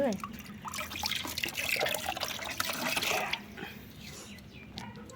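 A pet parrot is bathed with water splashing and trickling, close and fairly loud for a few seconds, then easing into softer dripping, with a voice speaking faintly underneath.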